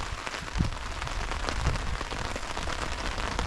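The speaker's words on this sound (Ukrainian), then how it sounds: "А дощ такий добрий пустився." Steady, dense rain patters down heavily and continuously at an outdoor camp with a shelter, with a few louder drops hitting a nearby surface.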